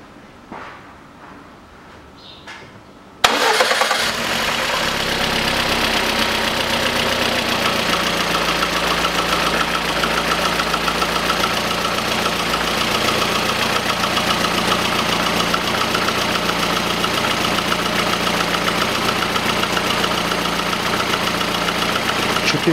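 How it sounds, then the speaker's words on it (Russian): After a few seconds of quiet handling noise, the 1.4-litre engine of a 2010 Lada Kalina with a newly replaced fuel pump cranks and catches abruptly, then settles into a steady, loud, even idle that continues to the end. "Запускаю двигатель."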